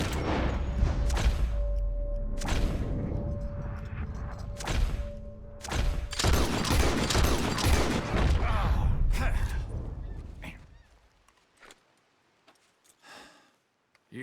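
Gunfire in a first-to-four shooting contest in Red Dead Redemption 2, with several sharp shots and thuds in the first ten seconds amid game sounds, then fading to near silence.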